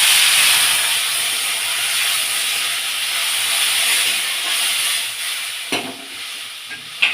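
Water hits a hot pan of potato curry and then simmers under a lid, giving a steady steamy hiss that fades slightly, with a few sharp knocks near the end.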